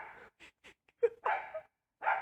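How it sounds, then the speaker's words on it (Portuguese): A dog in the street gives short, scattered barks and yelps, a few quick bursts then louder, fuller barks, fairly close and with nothing else around them. "Meu Deus, o cachorro não cala a boca,"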